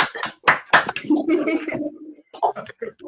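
Several participants on a video call clap for a few moments, a handful of loud uneven claps at the start followed by mixed voices and scattered sounds.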